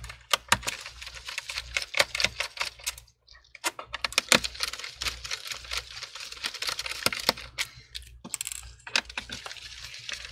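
A Phillips screwdriver works the screws out of an Asus Vivobook M1603Q laptop, giving close, quick clicks and ticks with small metallic rattles in irregular bursts and a brief pause partway.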